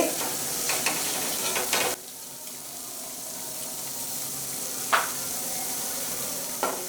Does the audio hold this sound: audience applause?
no